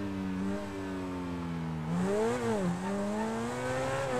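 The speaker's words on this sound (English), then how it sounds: "It's such a smooth sounding engine." A car engine revving in GTA 5 on the Nürburgring GP circuit, a smooth, steady engine note that climbs, dips and climbs again through the gears, moderately loud with no talk over it.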